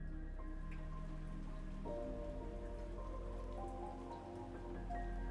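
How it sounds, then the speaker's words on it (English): Soft morning drizzle in the visual novel Before You Depart, a steady patter of light rain layered over a sustained musical backdrop, continuous and even throughout with no voices. "I walked through the door, across the hall, and through the wall into the morning drizzle."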